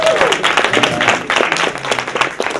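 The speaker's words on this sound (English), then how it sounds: "another round of applause, folks." An audience at the 2015 African Union Expo contestant event gives a short burst of dense, steady applause, many hands clapping together at close range.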